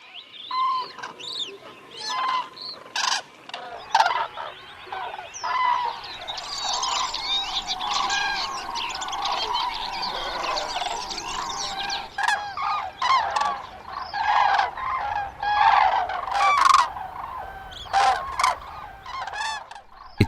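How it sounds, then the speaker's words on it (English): Cranes and other migrating birds call in the Dehesa wintering grounds, a dense chorus of trumpeting and honking cries overlapping continuously, some near and loud, others more distant, with sharp individual calls punctuating the flock's din. "It's now filled with the noise of the cranes and other migrating birds arriving to their winter paradise."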